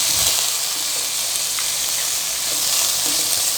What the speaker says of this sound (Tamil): நல்லா கிண்டி விட்டு வதக்குங்க